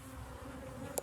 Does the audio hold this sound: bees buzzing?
yes